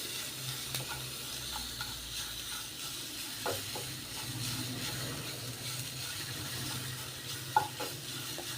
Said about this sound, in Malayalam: ഇനി നമ്മുടെ അരപ്പ് ഒന്ന് ഇട്ട് കൊടുക്കാം ഈ അരപ്പിൻ്റെ പച്ചമണം ഒന്ന് മാറി കിട്ടുന്നവരൊന്ന് ചൂടാക്കണം